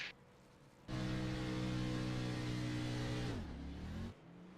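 Race car engine from a NASCAR racing video game roars down the front straightaway at Charlotte, a steady loud high-revving drone that drops in pitch near the end, then cuts off abruptly.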